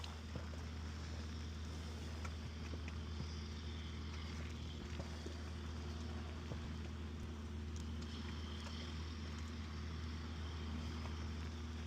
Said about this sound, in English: The boat's moving, trolling motor's going.